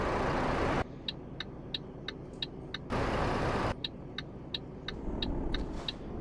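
A truck in Euro Truck Simulator 2 rumbles past with a steady broad engine roar, joined by a second surge partway through, while a regular series of short clicks ticks along underneath.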